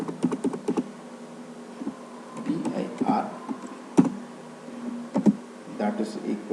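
Keys clatter on a computer keyboard while Arduino code for a PIR motion sensor is typed, producing irregular clusters of close taps with short pauses between them.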